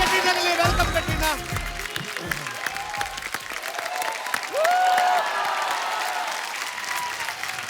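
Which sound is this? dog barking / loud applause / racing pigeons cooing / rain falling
loud applause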